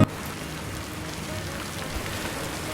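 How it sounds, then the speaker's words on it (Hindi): Heavy rain falls in Mumbai as a steady, even hiss of drops on surfaces, fairly faint and continuous throughout. "और आज सुबह से मुंबई में बारिश हो रही है"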